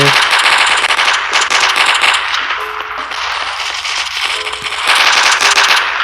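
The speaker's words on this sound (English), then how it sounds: "And the VSS here is a hybrid of an assault rifle. As you can see, there's the hip fire." VSS rifle fired from the hip in the mobile shooter Coalition, loud rapid bursts of automatic gunfire rattling almost continuously, with brief gaps between strings of shots.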